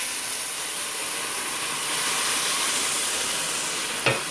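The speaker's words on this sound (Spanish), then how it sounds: "Ahora voy a dejar que se sofría un poco todo esto." Blended seasoning fries in a pot for moro de guandules, a steady bright sizzle and hiss filling the whole stretch, close and even, with one brief scrape or stir near the end.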